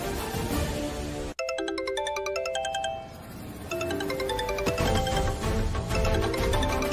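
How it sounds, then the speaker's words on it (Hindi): A phone rings with a bright electronic melodic ringtone, repeating a tinkling pattern of tones loudly over a quiet indoor background with no talking. "अरे फोन उठाओ गायत्री।"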